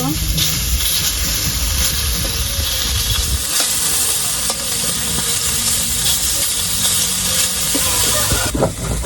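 Small paisa fish fry loudly in hot oil in a pan and are turned over, a steady close sizzle and hiss with a few brief clatters, while a voice talks over it.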